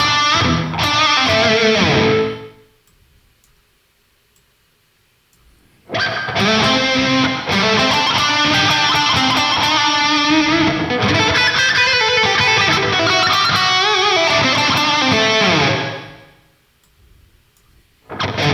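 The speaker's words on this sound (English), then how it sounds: "Let's check out the reverb." Distorted metal guitar runs through the Audio Assault Amp Locker amp simulator with reverb: two heavy riff bursts separated by a quiet gap, the chords ringing out into a fading reverb tail at the end.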